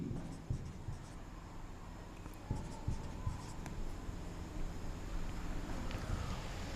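Letters being written on a board in a classroom, with scratchy strokes and a few sharp taps scattered through faint background noise; a voice is faintly present.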